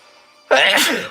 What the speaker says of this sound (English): Oh, I already got a sneeze.